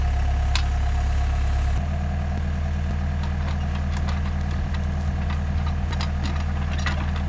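A jumping jack compactor engine running steadily, a loud, continuous low chugging drone close by that shifts pitch slightly early on, with no talking over it.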